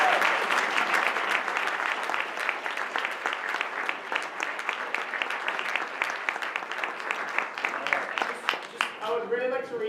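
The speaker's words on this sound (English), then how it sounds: "So, round of applause to everyone." Loud sustained applause from an audience at a student presentations and awards event, thick continuous clapping with voices mixed in, thinning into speech at the very end.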